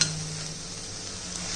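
Spinach sizzles and sautés in a hot pan with soft stirring scrapes, a steady close-up frying hiss without any talk.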